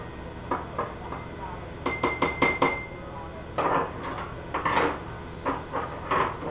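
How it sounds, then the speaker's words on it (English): A knife scrapes and clinks against a bowl while stirring pumpkin pie crust mix, producing bursts of rapid tapping strokes with short pauses, close and moderately loud against a steady background hum. "we are going to take a little bit of a knife and give this a good little stir."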